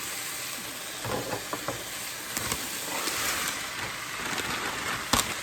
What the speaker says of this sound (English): we add the cauliflower rice, and as you can see, it is frozen. Just going to open and throw it in the skillet.